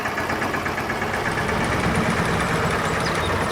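A tractor engine idles steadily in Farming Simulator 22, a continuous low rumble with a faint knocking texture, loud and close with no talk over it.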